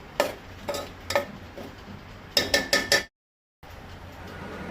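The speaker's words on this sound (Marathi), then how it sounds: "आतां तें सगळें ढवळून घेवपाक जाय।" A spoon scrapes and clinks against a cooking pot while raw jackfruit and small prawn bhaji is stirred, giving sharp metallic taps in two quick clusters over a low background hiss.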